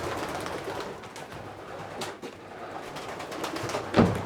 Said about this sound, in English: These are my sprint pigeons.